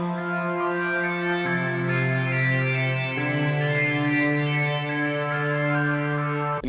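A software synthesizer holds a bright, buzzy square-wave tone that steps between a few sustained pitches, loud and steady with no other sounds.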